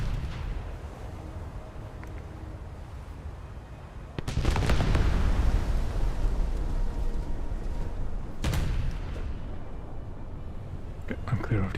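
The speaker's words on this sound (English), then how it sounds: "I should probably angle a bit more when shooting at this Eugen, now that it's returning fire." Naval cruisers trade gunfire in a German cruiser battle game: two heavy, booming salvos roll out with long rumbling tails over a steady low ambient drone, and someone talks over the action.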